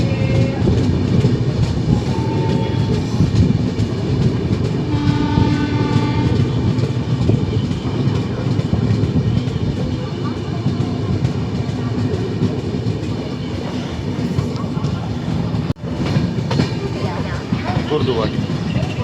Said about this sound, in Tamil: ஓகே, நம்ம இறங்குற குருதுவாடி ஸ்டேஷன் வந்தாச்சுங்க.